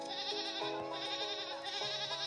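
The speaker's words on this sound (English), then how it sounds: "Goat." A farm goat bleats in a steady, wavering, nasal cry that carries through the whole moment, fairly faint with no other sounds around it.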